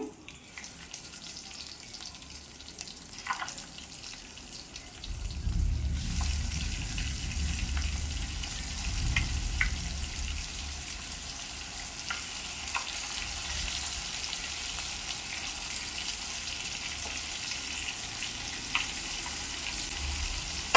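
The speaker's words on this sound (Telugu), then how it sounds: "ఇది కూడా బాగా ఫ్రై అయినంత వరకు ఉంచుతానండి" Fish pieces for fish biryani fry in hot oil, with a steady broadband sizzle that swells louder after a few seconds and then holds, close to the pan, with no talking.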